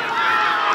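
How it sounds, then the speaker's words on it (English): Crowd at a Pt.Chev versus Otahuhu reserve-grade rugby final roars in a steady, dense wall of cheering and shouting that holds throughout, loud and close with no break. "The crowd going berserk out there."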